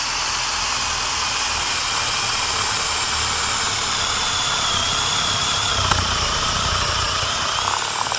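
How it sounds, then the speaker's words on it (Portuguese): Power drill boring into wood at a 45-degree angle, a steady high whine running continuously without pause, close and loud, with no talking. "Então eu vou furar aqui com 45 graus também, ó."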